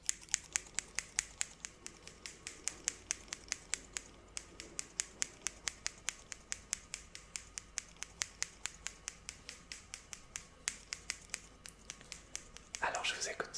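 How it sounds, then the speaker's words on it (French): Scissors snipping close to the microphone in an ASMR setting, a long run of crisp, evenly spaced snips with short pauses, quiet and intimate, ending in a brief rustle. "Et je vais vous faire des petits bruits de ciseaux"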